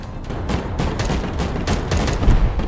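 Rapid bursts of gunfire and blasts from Minecraft, dense and continuous, with several sharp booming explosion hits standing out over a steady rumble.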